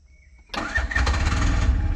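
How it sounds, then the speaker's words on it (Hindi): A Bajaj CNG auto rickshaw engine cranks and catches, then settles into a steady, close idle with a buzzing mid-range hum. "गाड़ी स्टार्ट हो चुका है"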